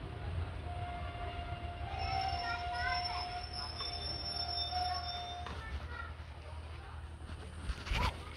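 A passenger train pulls out of Hanspur halt, a small station with a medium-level platform, with rolling rail noise, long high wheel squeal and a brief louder burst near the end.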